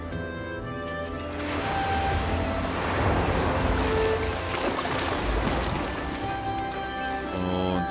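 Ocean waves in the video game Unravel, a broad rolling surge of surf that swells and recedes under a soft musical background, steady and fairly loud throughout.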